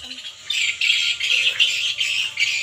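Birds squawk and chirp outdoors near a coconut-tree-high swiftlet house. The calls come in a dense, steady chorus that rises and falls in bursts, close and fairly loud, with no talk over them.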